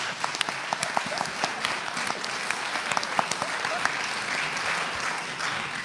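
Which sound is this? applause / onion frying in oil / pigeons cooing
applause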